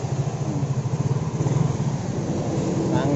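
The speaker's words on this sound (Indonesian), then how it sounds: "Kita nyalain lagi motornya." A Yamaha Mio J scooter engine, one prone to stalling, starts and settles into a steady, close, pulsing idle with a slight uneven throb.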